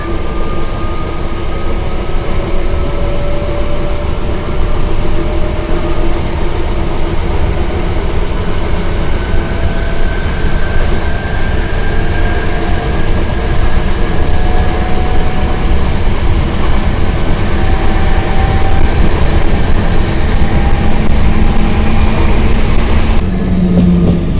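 A British Rail Class 323 electric train cruises with its VF drive in pattern-based PWM, with a continuous loud rail rumble and faint whining tones drifting slowly in pitch, steady throughout with no voices.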